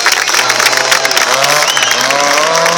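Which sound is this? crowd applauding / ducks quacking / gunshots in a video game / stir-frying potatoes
crowd applauding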